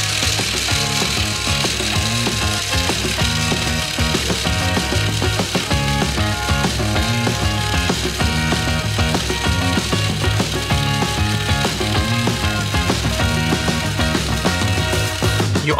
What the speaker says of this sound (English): And mix it all with a construction mixer.